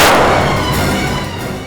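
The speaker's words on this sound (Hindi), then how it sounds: "तभी अचानक एक गोली चलने की आवाज आई" A single loud, booming gunshot blast with a long rumbling decay that fades over a second or so.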